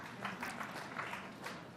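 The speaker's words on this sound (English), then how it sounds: "You should applaud for that because it's true." Brief, faint applause from an audience at a public address, soft scattered clapping heard from a distance for under two seconds.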